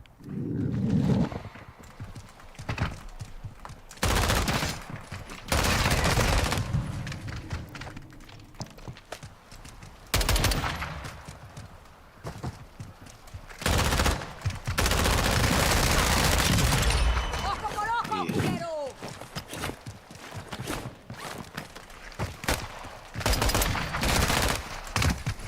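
Video game gunfire, with repeated bursts of rapid shots and heavy fusillades spread through the stretch, loud and close, with brief pauses between volleys and some game noise mixed in.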